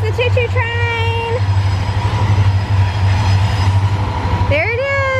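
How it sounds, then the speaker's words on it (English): A train passes through woods near a new house, a steady heavy rumble with horn blasts at the start and again near the end, loud and close throughout. "Here comes the choo-choo train."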